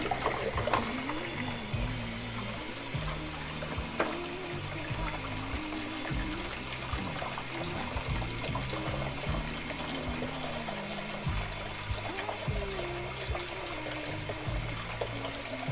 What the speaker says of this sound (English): Just rinsing these under hot water.